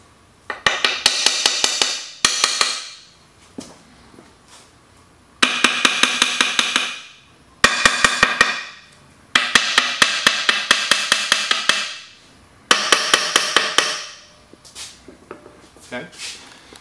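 Five bursts of rapid metallic hammer taps, each lasting about a second or two, separated by short pauses, close and sharp, tapping a limited slip differential into its case in a MINI Cooper S.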